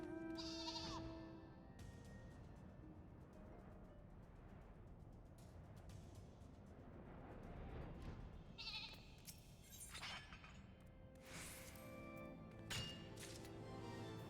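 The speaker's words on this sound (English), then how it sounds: "those sheep noises are still great" Sheep bleating in the video game Final Fantasy XIV while gathering with a Dragonsung pickaxe, several bleats standing out over a continuous game soundscape, with no voices.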